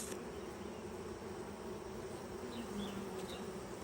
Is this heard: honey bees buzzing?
yes